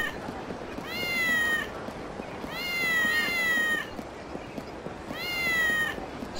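Cat meowing in the video game Kurohyou 2, three drawn-out, close meows spaced a couple of seconds apart, loud and clear with no talk.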